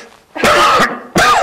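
A person blows their nose in two short, loud, forceful bursts, the second following a brief pause, close to the listener.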